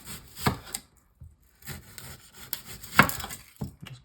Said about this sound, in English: So what I'll do now is just quickly chop up a little bit of the onion on here, quite finely.